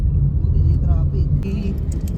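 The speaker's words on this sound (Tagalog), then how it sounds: "Traffic." Steady road traffic rumble with car engines passing close by, a continuous low roar throughout, with voices talking over it.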